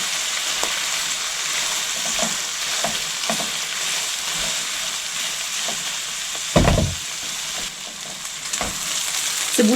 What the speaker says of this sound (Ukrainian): додаю три нарізаних цибульки. Та обсмажую це все разом